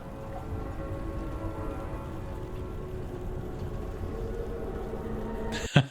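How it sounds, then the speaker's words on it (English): Soft steady rain falls as a faint continuous hiss and patter, with a few sharp knocks and a louder burst right at the end, no voices. "Hey, when did it start raining?"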